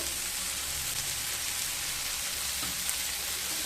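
Dal with chopped tomato, slit green chillies and salt frying over low to medium heat in a pan, giving a steady, even sizzle and crackle throughout with no voices.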